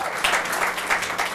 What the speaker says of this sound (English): folks, it helps a lot if you don't applaud